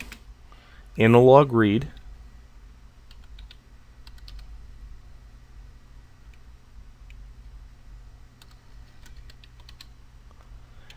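Faint keyboard clicks tap sporadically as Arduino code is typed on a computer, following a brief spoken phrase, in an otherwise quiet room.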